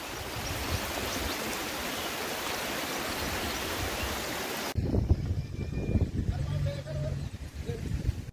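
Spring water flows into a village lake in Somurdi, Maharashtra, with a steady close rush for about five seconds, then a quieter trickle and bubbling after an abrupt cut, with faint scattered sounds.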